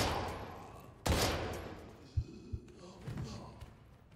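Gunfire in the horror video game Daymare: 1998, a sharp loud shot followed by a few softer thuds and impacts over a low ambient drone, with no voice.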